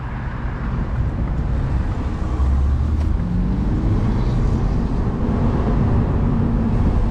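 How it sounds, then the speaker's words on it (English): A 2025 Mini Cooper convertible cruises along back roads in go-kart mode, its engine a steady low hum mixed with road and wind rush, loud and continuous with a slight rise in tone partway through. "Now we're gonna go ahead and put it into go-kart mode really quick, take it around these back roads"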